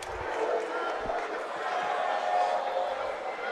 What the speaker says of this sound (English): Crowd protests.